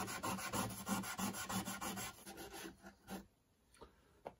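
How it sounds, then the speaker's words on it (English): A Scotch-Brite pad scrubs the fret board of an Esteban AL-100 acoustic-electric guitar between the frets, making steady rhythmic rasping strokes, close and fairly loud, that thin out into a few sparse rubs. "a Scotch-Brite and I clean up the fret board with it"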